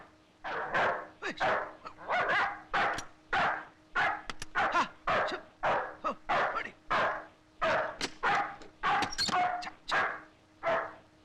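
Nearby dog barks repeatedly and steadily, loud sharp woofs coming in an almost continuous string with brief gaps between them.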